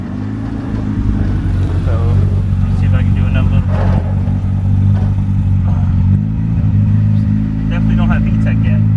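A turbocharged F23 Honda Accord accelerates under boost from inside the cabin, the engine droning loud and steady with clattering, while someone talks over it.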